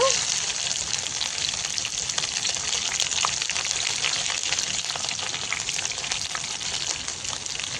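Steady, dense sizzling of green chilies frying in hot oil with mustard seeds, with crackles and pops throughout, close and fairly loud.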